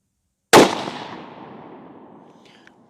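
A single sharp shot from a suppressed Remington 700 in .223 cracks close by, followed by a long fading rumble of echo across open ground.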